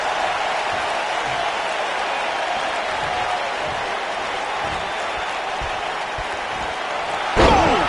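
A capacity crowd in a wrestling video game on PS4 roars as a steady, loud wash of noise. Near the end comes a sharp slam-like burst.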